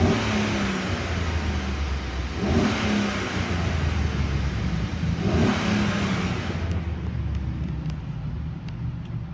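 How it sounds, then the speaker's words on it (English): A 2013 Chevrolet Suburban LT 1500 engine runs up close, a steady low rumble with two swelling revs, then settles back toward idle. "Let's go ahead and listen to the engine."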